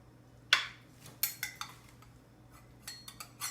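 Utensils scrape and clink against a dish while eggplant rollatini is served onto it, with a loud first clatter followed by a string of lighter taps and scrapes, close by and without talk.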